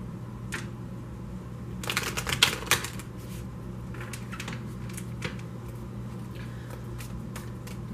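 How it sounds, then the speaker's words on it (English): A deck of tarot cards being shuffled: faint scattered riffles, then a dense burst of card flutter near the middle and lighter shuffling afterward, close and fairly quiet with no talking. "Shuffling the next deck."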